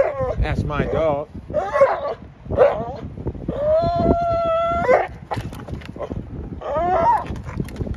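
A pregnant dog howls and whimpers nearby in a series of high, wavering whines and drawn-out yowls, with short pauses between.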